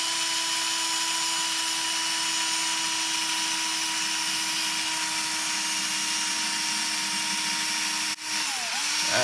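A power drill bores horizontally into a model aircraft aileron panel along its panel line, making a steady high whine that runs for several seconds before it stops abruptly, with no talking.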